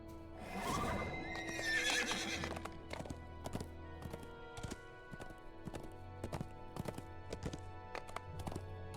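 A horse in Dungeons and Dragons Online gives a loud neigh near the start, followed by a run of sharp, evenly spaced hoof clip-clops that continue to the end.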